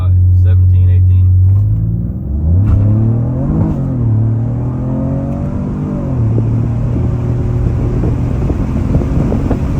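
A 2017 Ford Fusion Sport's engine builds boost at high RPM, a loud rumbling drone rising and falling in pitch as it accelerates, heard from inside the car with wind noise and someone talking.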